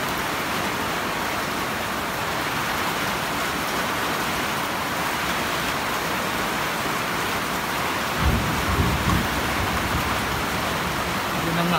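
Heavy rain pours in a steady roaring wash, and a low rumble of thunder rolls in partway through, close and loud.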